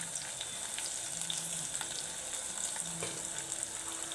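Cumin seeds and dried red chilies sizzle in hot oil for a spicy mutton fry, a steady close crackle with light stirring clicks throughout and no voices.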